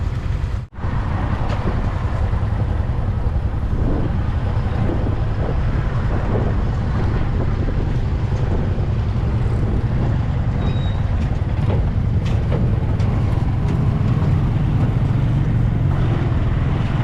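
Wind-buffeted rumble of a large river ferry crossing near Luang Prabang with motorbikes aboard, a steady low engine and water drone under gusty microphone noise, with a brief thump near the start.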